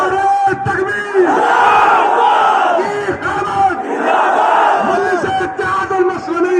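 A large crowd at a political rally addressed by Asaduddin Owaisi in Allahabad roars the slogan Nara-e-Takbeer. The chant comes in loud, repeated massed bursts with short pauses between them.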